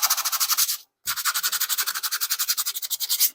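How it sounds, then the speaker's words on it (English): Sandpaper rubbed back and forth over a piece of wood for a simple shop shelf, quick rhythmic rasping strokes up close, a brief pause after the first burst then a steady run of strokes. "We'll run some sandpaper over it."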